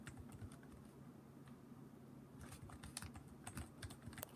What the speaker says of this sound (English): Look, you can hear my keys going.